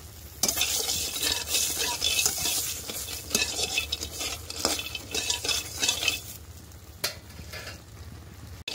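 Lentil and pumpkin bori (sun-dried dumplings) frying in oil in a wok, with a steady sizzle and repeated scraping stirs of a spatula against the pan, close and fairly loud throughout with a brief pause near the end.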